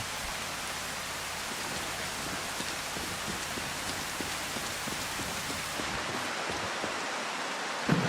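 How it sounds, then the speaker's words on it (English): Heavy storm rain in the survival video game Prologue: Go Wayback!, a loud, steady wash of hiss and patter that carries on unbroken throughout. "Man, the storm is so loud."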